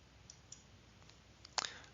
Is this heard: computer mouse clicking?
yes